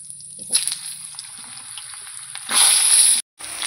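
Potatoes frying in oil with whole cumin, garam masala, cinnamon, cloves and cardamom, stirred in a pan: a steady close sizzle with scraping stir strokes, swelling into a louder hiss near the end before a brief cut.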